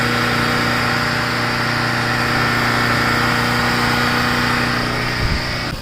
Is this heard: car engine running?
yes